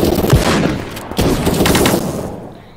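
Revolver gunshots in the Krunker online shooter game: several loud, sharp close-range shots in quick succession, each with a short ringing tail, fading out at the end.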